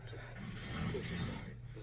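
Loud human snoring from a sleeping man: one long, harsh, rasping rattle fills the short stretch, close and steady.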